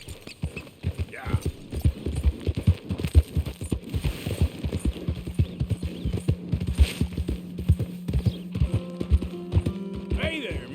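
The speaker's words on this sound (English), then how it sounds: "That's a fine horse you got there." Steady clip-clop of horse hooves in Red Dead Redemption 2, a walking rhythm throughout, with voices talking over the steps.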